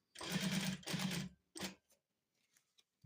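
Sewing machine stitching a frying pan cover made from a harrow disc, running in two close bursts of about half a second each, then a brief third burst and quiet, with faint clicks.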